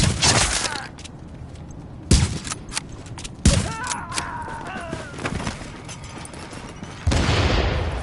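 Gunfire from The Division, a video game, comes as several sharp loud shots and bursts spread across the clip, with quieter stretches of ambient game sound in between.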